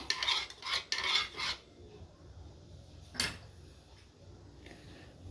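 A spoon stirs green food colour into a custard falooda drink, making quick, close scraping swirls against the container for a second or so. A single sharper clink follows after a pause, then only quiet background.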